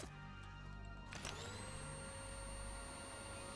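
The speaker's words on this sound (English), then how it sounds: "That's like there's a vacuum in this." A vacuum weapon in the video game Postal sets off with a sudden burst, then holds a steady, loud whooshing drone with a sustained whine running to the end, over game background noise.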